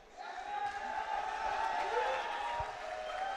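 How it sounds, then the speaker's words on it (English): Audience at a twentieth-anniversary gala applauding honorees, a steady, soft wash of clapping with faint crowd voices, holding level throughout. "Keep the applause going for these guys"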